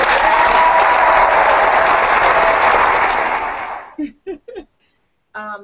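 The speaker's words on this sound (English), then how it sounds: "let's just give these ladies a round of applause." A round of applause from an audience at an author meet-and-greet event, loud, dense clapping that lasts about four seconds before stopping abruptly, followed by a few short spoken words.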